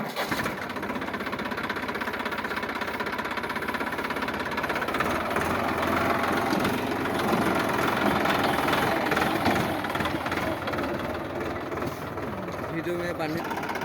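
A vehicle engine runs steadily at idle with a rough, knocking rumble, close and continuous throughout, while voices talk over it.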